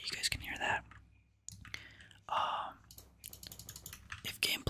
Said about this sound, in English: I'm not sure if you guys like keyboard sounds yet